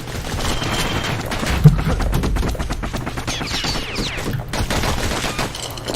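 Two slinger pistols blasting in quick alternating succession in the game Bastion, a dense stream of punchy shots firing nonstop over the game's music.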